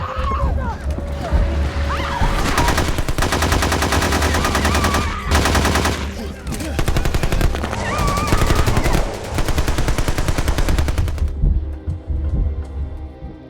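Sustained bursts of automatic gunfire and rapid shots in an action film scene set among a Colombian drug cartel, loud and dense for most of the stretch, with a low rumble underneath and brief quieter gaps before it cuts off.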